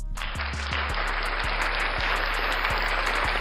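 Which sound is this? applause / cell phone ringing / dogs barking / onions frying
applause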